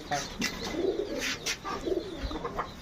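Pigeons in a loft coo in repeated low, throaty rolls, close by and moderately loud, with a voice speaking in the background.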